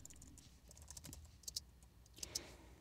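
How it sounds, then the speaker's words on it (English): A few soft keystrokes on a computer keyboard while entering a last name in an office document, scattered quiet clicks close by over faint room noise, no voices. "I'm going to type out my last name"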